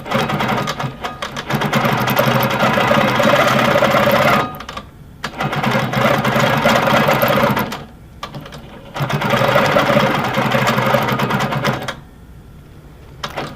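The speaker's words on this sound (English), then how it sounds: "The machine is on, but the needle's not moving up and down because I'm not moving the fabric." A Handi Quilter Amara longarm quilting machine runs in three long stitching bursts separated by brief pauses, its rapid needle clatter loud and close, with no voices.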